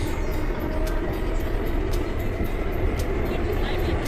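Kolkata metro train rumbling at a steady loud roar, dense and continuous for the whole stretch, heard from close by with no clear pauses.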